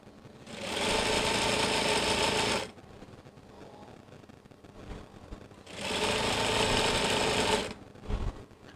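Sewing machine stitching around a zip on a skirt, two loud steady bursts of fast mechanical whirring separated by a quieter pause with faint handling noises.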